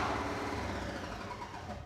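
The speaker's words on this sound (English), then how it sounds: "It's that clutch noise, I wonder." A classic Ford pickup's clutch noise from a worn throwout bearing, a steady mechanical drone with a rough hum over a running engine, holding level throughout with no voices.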